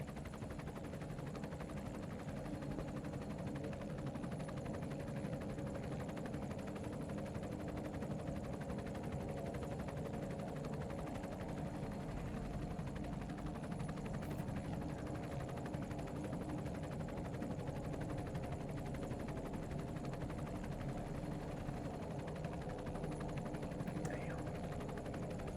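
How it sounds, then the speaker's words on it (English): A rescue helicopter makes its final approach over the recovery area after the Artemis crew splashdown, ending a ten-day lunar mission. Its steady, loud rotor and engine roar runs continuously throughout. "Helicopter now making its way back over to the front porch."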